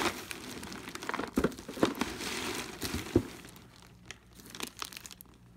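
Newspaper packing crinkles and tears inside a shipping box holding a vintage Conair clear landline phone, with irregular close rustling bursts and crunches that thin out toward the end.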